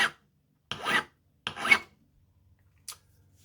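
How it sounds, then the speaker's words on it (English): A file rasps across a metal nut to clear burrs for a stained glass mobile, with three short separate strokes and a faint tap after them in a quiet room. "I usually file it down until my nut has a nice"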